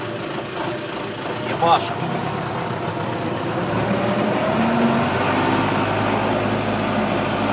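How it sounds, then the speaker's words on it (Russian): Belarus tractor engine running steadily inside the cab while the loader bucket is raised, a continuous mid-level drone throughout, with a brief spoken phrase near the start. "Поднимаем ковш, смотрите, опа, поднимается ковш"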